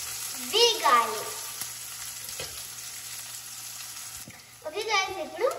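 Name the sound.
taro leaves and tomato curry frying in a pan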